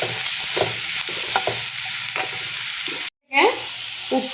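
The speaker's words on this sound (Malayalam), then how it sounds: "അതിലേക്ക് ഞാൻ 2 സവാള അരിഞ്ഞത് ഇടുന്നുണ്ട്." Two chopped onions sizzle steadily in hot coconut oil for chicken kalmas and are stirred several times, close up. A brief gap of silence comes near the end before the frying and stirring resume.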